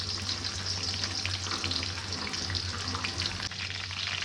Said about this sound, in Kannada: ಈಗ ಒಗ್ಗರಣೆಗೆ ಸ್ವಲ್ಪ ಈರುಳ್ಳಿ ಹಾಕ್ತಾರೆ.